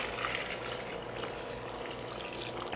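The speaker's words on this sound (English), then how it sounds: "So what we're going to do is just pour this over our curds." Hot whey is poured over cheese curds in a kitchen, giving a continuous faint gushing, splashing liquid sound that runs steadily throughout with no talk.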